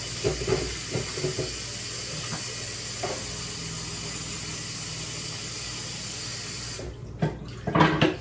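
Meat is washed in a kitchen sink under a running tap, a steady loud hiss of water with some splashing that cuts off near the end, followed by a few knocks and clatters.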